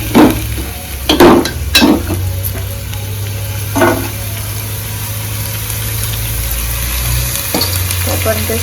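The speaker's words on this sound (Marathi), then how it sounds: "टोमॅटो कांदा तेलावरती परतवायला." Tomato, onion and garlic sautéing in oil in a home kitchen give a steady close sizzle, with a few scraping spoon strokes near the start and a low hum beneath.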